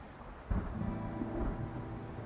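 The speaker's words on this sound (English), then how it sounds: "Subdued thunder grumbles in the sky as a deep roar resounds from the command center" Thunder rumbles low and steady beneath a wash of falling rain, with a deeper roll swelling about halfway through, heard as a story's atmospheric sound effect and with no voices.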